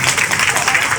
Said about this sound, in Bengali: একবার জোরে একবার হাততালি হয়ে যাক এদের জন্য